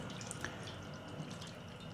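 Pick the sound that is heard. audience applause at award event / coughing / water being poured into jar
water being poured into jar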